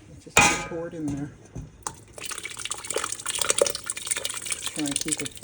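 Chili sauce is poured into a pot of mixed beans with a wet, splashing fill and clinks of a utensil against the pot while someone talks.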